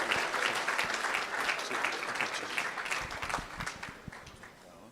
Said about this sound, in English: A big round of applause for our dual Sir Gilbert Chandler medalist